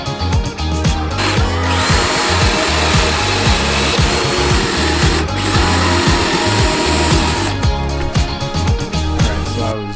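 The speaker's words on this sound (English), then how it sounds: "Drilling these holes to run the wires" A power drill whirs loudly and close, bursts of grinding as the bit bores wiring holes through wooden boards of a teardrop camper trailer, with brief pauses between holes.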